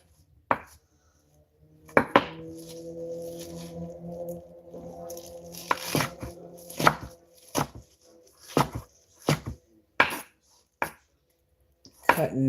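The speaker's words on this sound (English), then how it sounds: "Cutting and chopping this salad up." A knife chops and cuts salad ingredients in a home kitchen, with sharp, irregular knocks on a board spaced through the clip, plus a stretch of soft cutting and rustle mid-clip.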